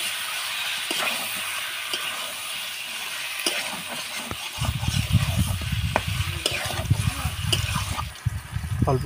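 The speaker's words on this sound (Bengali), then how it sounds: "আদা জিরে বাটা দিয়ে মশলাটা হালকা কষিয়ে নিয়ে ধুয়ে রাখা মাংসগুলো সব একসাথে দিয়ে দেব।" Meat goes into a pan of ginger-cumin spice paste and fries with a sizzling hiss, followed by loud scraping and stirring, with clattering and bubbling rising after the meat is added; no talking.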